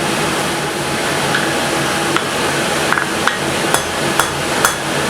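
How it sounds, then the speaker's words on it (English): A blacksmith forges the edge of a hot bar with the cross peen of a hammer while making a vice spring. Sharp, ringing blows land in an uneven rhythm over a loud, constant roar of shop noise, with no speech. "then we're going to cross peen the very edge so that it spreads out so you get the wings like that"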